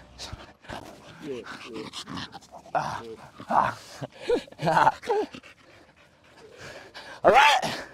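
A dog pants heavily outdoors at cricket nets, rapid breathy bursts up close with a few whimpering whines, and a person talks intermittently over it.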